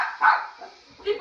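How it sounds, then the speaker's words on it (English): A dog gives two or three short, close barks with brief yips between them, loud and near, with a voice mixed in around them. "That's a dog."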